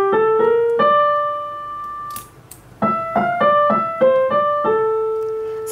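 Solo piano plays the simple right-hand melody of a song from La La Land, clear single notes in a gentle phrase with a brief pause midway, close and moderately loud.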